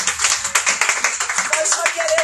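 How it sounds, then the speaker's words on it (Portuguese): Church congregation clapping at a thanksgiving service, a steady run of rhythmic handclaps with voices mixed in throughout. "Vamos aplaudir ao Senhor"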